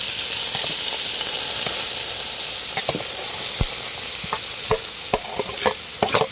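Bamboo shoots (labong) simmering in coconut milk in a pot, with a steady bubbling sizzle and a series of sharp spoon scrapes and knocks against the pot that get more frequent toward the end, recorded close and with no talking.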